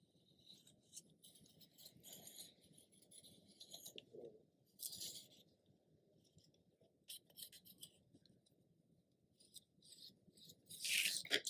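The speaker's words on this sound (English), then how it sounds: "I will take the scissors and cut it out on the line" Scissors snip through cardboard along a traced pencil line in short separate bursts of crisp crunching, close up and fairly quiet, with pauses between cuts and a sharper final rasp.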